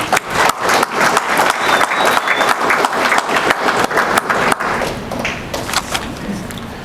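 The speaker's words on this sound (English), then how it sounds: "let's give her a big round of applause" A dinner audience at a 4-H Foundation hall of fame event claps heartily, many sharp, close claps in an uneven rhythm that gradually softens toward the end, with faint crowd murmur beneath.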